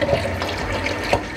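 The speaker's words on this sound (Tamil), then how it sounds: "தண்ணியை திறந்துருக்கு." Steady rushing tap water runs into a sink for washing fruit, a continuous close hiss with occasional splashy spurts, no talking.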